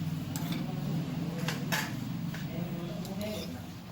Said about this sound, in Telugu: ఇప్పుడు ఇవన్నీ మంచిగా కలుపుకున్నామండి మనము.